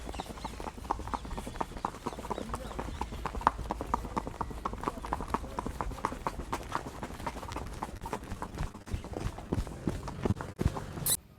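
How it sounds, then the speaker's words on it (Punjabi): Rapid, continuous clip-clop of horse hooves close by at the Muktsar Maghi fair, a brisk rhythmic trot with a rumble of movement underneath, no voices standing out. "ਤੁਹਾਨੂੰ ਦੋ ਘੋੜੇ ਵਿਖਾਵਾਂਗੇ"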